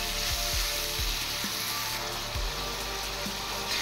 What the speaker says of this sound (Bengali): এবার আমি চিংড়ি মাছগুলো হালকা একটু ফ্রাই করে দেব।